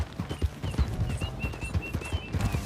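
Horse hooves trotting in Red Dead Redemption 2, a steady, close clip-clop rhythm that carries on throughout, with no one talking.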